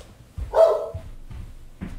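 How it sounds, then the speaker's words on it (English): A pet dog gives one loud, sharp bark close by, with a few soft thumps and shuffles before and after it. "every time it barks, my dog hears it and he barks"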